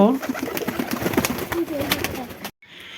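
Pakistani pigeons in a breeding loft coo in low throaty rolls close by, mixed with clattering and shuffling, with talk beneath.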